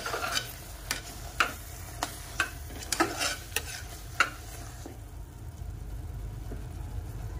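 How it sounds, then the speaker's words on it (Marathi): A spoon stirs mixed sprouted bean usal in a pan for misal pav, scraping about ten times at an uneven pace over a steady low hum and faint sizzle, then fading toward the end. "त्याला छान मिक्स करून घेऊया उसळ"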